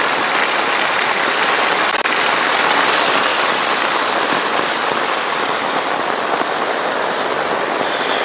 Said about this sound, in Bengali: শুধু বৃষ্টি আর বৃষ্টি এত পরিমাণে বৃষ্টি আছে